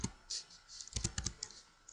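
Typing on a computer keyboard, a quick run of close key clicks and clacks at an uneven rhythm, fairly faint with no talk.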